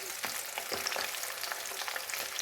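Beef pieces deep frying in hot oil for beef pickle, a dense, continuous close-up sizzle with crackling bursts and faint stirring scrapes, no voices.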